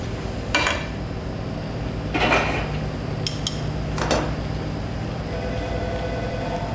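Fettuccine alfredo is tossed in a metal pan, making a few sharp clanks and scrapes of metal against the pan over a low, steady kitchen hum.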